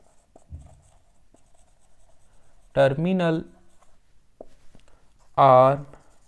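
Marker or chalk strokes scratch across a board during a trigonometry math lecture, with short, quiet writing scrapes and taps between two brief bursts of a man's speech.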